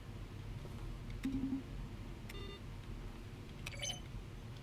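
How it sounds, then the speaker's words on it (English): Short electronic beeps and keystroke clicks from button presses in The Stanley Parable, each a keyboard stroke blended with a synthesized tone, sounding as a few sparse, quiet blips over a low background hum. "A selection of the sounds used throughout the game when the buttons are pressed. Each sound is a mix of the keyboard stroke and a synthesized tone."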